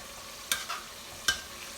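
Pork and tofu frying in a pan are stirred with a utensil, giving two quick, close knocks against the pan over a faint, steady sizzle.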